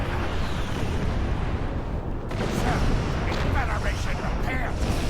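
Starship weapons fire and torpedo blasts in Star Trek Online, a dense, rumbling barrage of booms and bursts swelling midway, with a voice talking faintly underneath.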